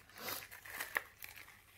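Plastic scrapbooking sachet being opened and handled, giving soft crinkling with a few small crackly peaks, close and fairly quiet with no talk.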